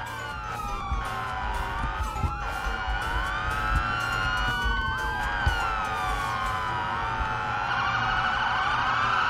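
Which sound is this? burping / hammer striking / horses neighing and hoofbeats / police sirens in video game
police sirens in video game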